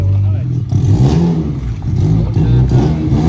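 Engine of a Bumble Bee vehicle revving hard and close, a loud rising and falling roar with a rattling edge over about three seconds, with people talking over it.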